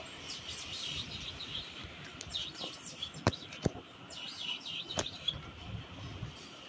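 A person's voice imitates a baby chick, giving soft, faint high peeps in a quiet room, broken by a couple of sharp clicks.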